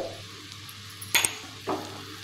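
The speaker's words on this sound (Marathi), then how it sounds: "पोहे हलक्या हाताने हलवून मिक्स करून घ्यायचे आहेत अशा पद्धतीने" Soaked poha is stirred gently in a pan, giving soft scraping with a couple of brief clinks of the utensil against the metal, close and fairly quiet.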